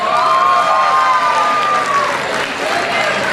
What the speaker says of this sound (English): applause for AI department.